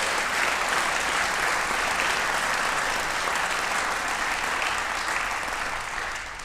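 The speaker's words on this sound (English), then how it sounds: "Please give a very warm round of gratitude and applause for Harold and Pam Lassers." A lecture audience gives a warm round of applause for sponsors Harold and Pam Lassers, dense sustained clapping that stays steady and loud before easing off at the end.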